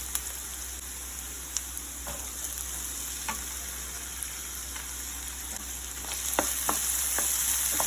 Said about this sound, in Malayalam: നല്ല ഫ്ലെയിമിൽ തന്നെ ഇങ്ങനെ ഇളക്കി കൊടുത്താൽ മതി.